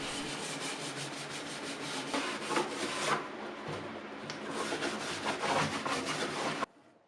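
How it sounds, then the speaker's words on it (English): Wire brush scrubbing paint stripper off the front of an antique serpentine dresser, a dense harsh scraping that rises and falls in long strokes, close and loud, stopping abruptly near the end with no talk. "So I continued with multiple coats of stripper on the front here and using a wire brush as well."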